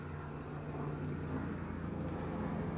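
A helicopter flies overhead with a steady, heavy low-pitched rotor and engine drone that fills the space and shakes the room, with no voices.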